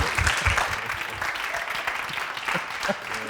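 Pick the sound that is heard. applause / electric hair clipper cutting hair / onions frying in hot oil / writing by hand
applause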